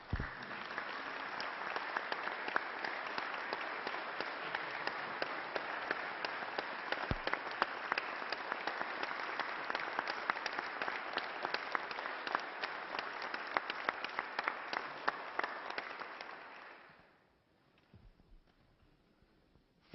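Sustained applause fills the West Virginia Senate chamber for a member's mother, dense and even clapping for about seventeen seconds before fading quickly into near silence.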